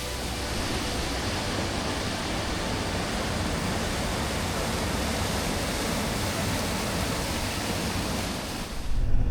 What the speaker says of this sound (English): The waterfall is really flowing